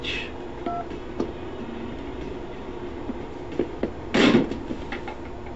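A phone in the GTA Vice City video game gives a few short dialing tones near the start, followed by scattered clicks and a brief burst of noise, all over a low steady game-ambience hum.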